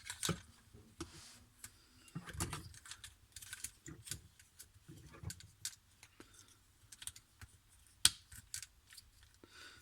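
A plastic toy robot figure is handled and transformed by hand, producing small clicks, snaps and scrapes of plastic parts being folded and adjusted, close and fairly quiet, in irregular bursts with no talking.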